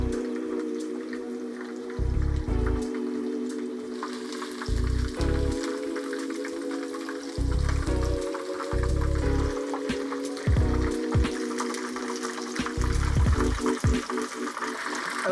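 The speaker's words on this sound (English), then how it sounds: "So we'll fry that for about 4 minutes on each side" Chicken pieces for Nagano sanzoku-yaki frying in oil, a steady crackling sizzle with bursts of popping throughout, intermittent talk over it.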